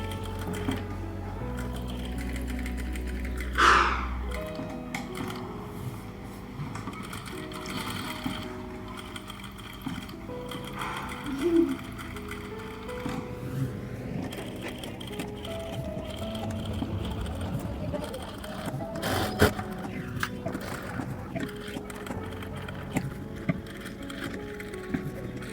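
Sewing machine stitching the back neck design of a blouse, running slowly along marked points, a steady mechanical whir with brief pauses and a few louder clicks and knocks throughout.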